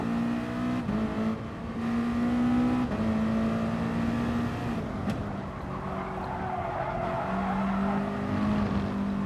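Group 2 race cars in GT Sport roar around the narrow, technical Autopolis circuit, engines droning and shifting pitch continuously with occasional tire squeal, loud and steady with no voice over the top.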